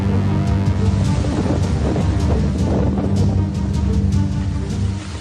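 Storm-driven sea waves surge along the Arabian Sea coast at Kutch during a cyclone, a loud, continuous roar of surf and buffeting wind on the microphone.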